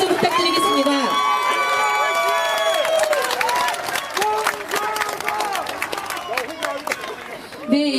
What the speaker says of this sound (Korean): 힘찬 환호와 응원의 박수 부탁드리겠습니다.